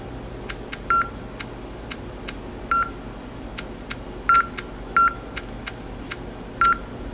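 Sharp progress clicks from an authentication device tick at irregular intervals, with short tonal counting beeps mixed in among them. The sounds are close and clear over a faint background hum, and no one speaks.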